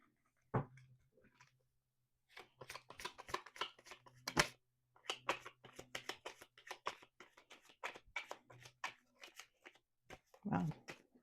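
Tarot cards are shuffled in quick, crisp bursts of riffling and flicking, close and fairly quiet, with short pauses between rounds.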